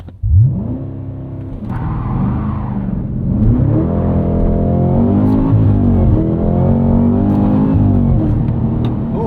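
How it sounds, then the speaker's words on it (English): A supercharged V8 engine in a 2024 Cadillac CT5-V Blackwing sedan roars and revs hard on launch, pitch climbing through gears as it accelerates, loud and close with a brief lull for a shift. "Okay, let's do an acceleration."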